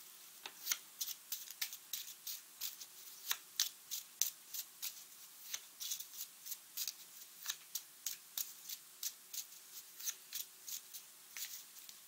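Tarot cards being shuffled and drawn, giving a steady run of crisp, close flicking snaps at a quick, fairly regular pace for about twelve seconds, quiet and with no talking.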